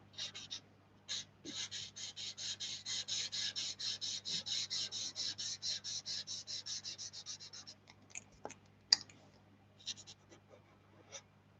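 Prismacolor marker chisel tip scratches across paper in a quick, steady run of back-and-forth strokes, close and soft, then slows to a few separate strokes.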